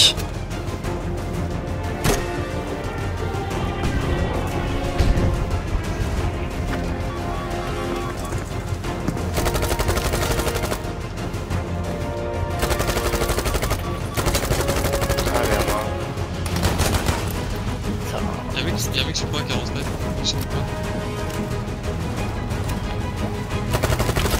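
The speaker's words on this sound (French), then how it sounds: "Une excellente phase de jeu avec sa Thompson où il tire à longue portée sur ses adversaires" Thompson submachine gun firing at long range in Battlefield 5, heard as repeated bursts of automatic fire over a dense, steady game soundscape lasting throughout.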